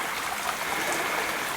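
A small brook flowing steadily where someone is panning for gold, a continuous close rushing and trickling wash of water with no break.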